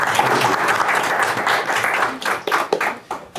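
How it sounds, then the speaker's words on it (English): Audience applause fills a conference stage at AfroCannes, a steady wash of clapping from a crowd that thins and breaks into scattered claps toward the end, with a few voices murmuring underneath. "Give it a round of applause."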